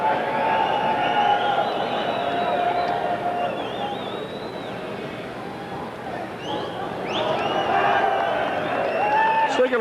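A boxing arena crowd roars and murmurs at the close of round eight in a bout between Julian Jackson and Eduardo Ayala, a steady dense din of voices with scattered whistles and cheers swelling near the end.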